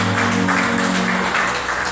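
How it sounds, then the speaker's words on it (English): Church congregation at a lively service in Portmore, Jamaica clapping for the Lord, a loud, continuous roar of many hands with a faint sustained tone underneath. "Can we get a clap for the Lord?"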